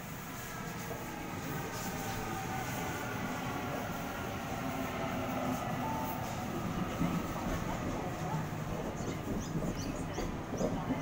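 A City Circle train pulls away from a station platform with a steady, fairly faint rumble of wheels and motors that builds slightly as it departs.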